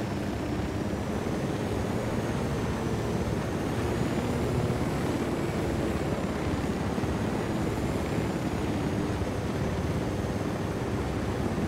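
A helicopter in Ghost Recon Wildlands drones steadily with a broad, wind-like roar that holds at constant loudness throughout, with no speech over it.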